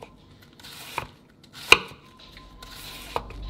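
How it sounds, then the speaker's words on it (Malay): A knife cuts through something on a kitchen table in a quiet rural house, with a few sharp irregular chops spaced apart, heard faintly against low background hiss. "Bunyi seperti ada pisau yang menghiris sesuatu di meja dapur."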